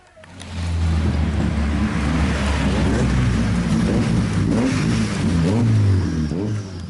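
Tuned Peugeot slalom cars race at the Capri View Hillclimb in Massa Lubrense during an Italian Slalom Championship round. Loud, close engines rev hard and continuously for several seconds, with rising and falling pitch as the cars pass.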